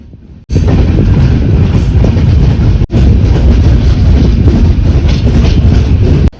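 Ratnagiri–Diva passenger train rolling steadily after pulling out, a loud continuous rumble and rattle of wagons with rushing wind, briefly dipping once mid-run.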